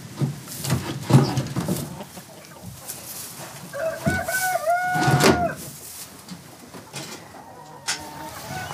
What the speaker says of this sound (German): auf diesem Stück Wiese halten sie schon die 2. und 3. Generation selbstgezogener alter Hühnerrassen